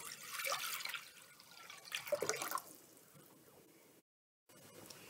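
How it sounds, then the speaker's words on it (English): Water splashes and pours into a bowl in a short burst, trickling and dripping nearby, then quiets into soft room noise with a brief gap. "We're going to take our water, pour it into our bowl."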